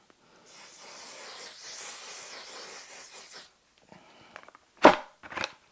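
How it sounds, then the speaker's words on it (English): One/Size On 'Til Dawn setting spray misted onto a made-up face: a steady airy hiss lasting about three seconds, close and alone, followed by a couple of brief rustling handling sounds. "the absolute final step is with one size on Till Dawn setting spray"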